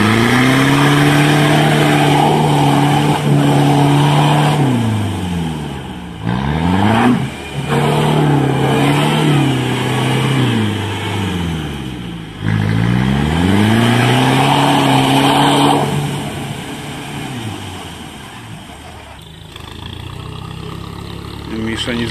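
Toyota Land Cruiser 70 off-roader on Lapplander tyres and 38-inch Boggers, its engine loud and close, revving and straining in repeated rising and falling surges with pauses, as if stuck and trying to move.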